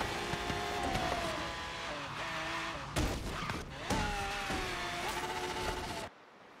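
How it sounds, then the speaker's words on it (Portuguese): A car in Forza Horizon 3 crashes and flips, with tire squeal and engine whine breaking into sharp impact bursts near the three- and four-second marks, loud and close, cutting off abruptly at the end. "O carro bate e virou ali"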